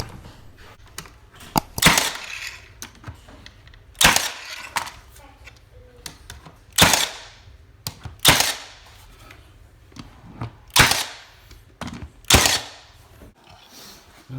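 A Milwaukee Gen II cordless brad nailer drives nails into trim boards, sharp close snaps repeating every couple of seconds over low handling noise, with faint talk between shots.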